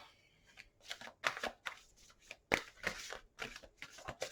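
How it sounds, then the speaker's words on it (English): Crisp, papery riffling of tarot cards being shuffled, a series of quick bursts and flicks close by, with no talking. "Just going to do a little bit more shuffling for you."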